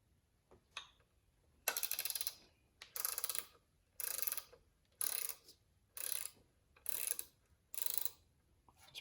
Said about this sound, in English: we're going to put the SATA ratcheting wrench on that